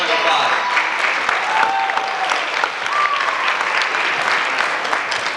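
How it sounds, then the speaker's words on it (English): Loud, dense applause fills a beauty pageant hall, sustained and even throughout, with a few tonal whistles or cheers rising above the clapping. "Yes, round of applause."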